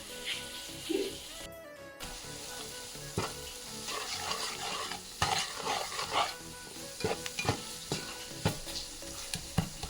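Turmeric, chili, coriander and cumin powder fry with onion and garlic in a pan, giving a steady close sizzle broken by frequent spoon stirs and scrapes, with a brief dull clunk early on.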